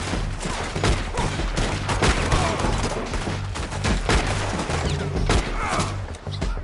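Video game gunfire in Red Dead Redemption 2, a fast fusillade of sharp overlapping shots that stays loud and dense throughout, with shouted voices mixed in.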